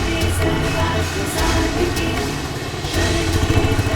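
A motorcycle engine drones steadily and loudly throughout, with slight surges in pitch, close by and with no voices.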